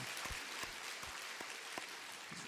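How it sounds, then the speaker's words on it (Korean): Church congregation applause during a sermon: a soft, moderate patter of clapping from a roomful of people, fairly distant and steady, with a few sharper individual claps standing out. "우리 한번 박수 한번 보내주세요."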